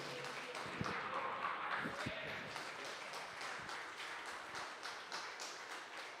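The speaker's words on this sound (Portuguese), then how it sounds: "As palmas são para Jesus" Applause from a church congregation, faint and distant, a soft steady patter running throughout.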